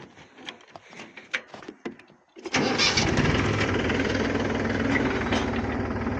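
Some clattering and knocks give way to a tractor engine starting up and running loudly and steadily close by.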